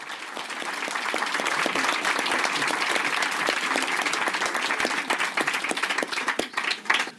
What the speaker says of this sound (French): Attention, ça commence par des applaudissements.